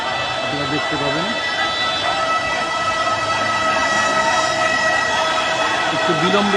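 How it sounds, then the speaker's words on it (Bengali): A fire engine siren approaching a burning factory, its wailing tone sweeping up and down at a distance, audible under steady background noise and crowd talk. "ফায়ার সার্ভিস আসছে, আপনারা দেখতে পাবেন।"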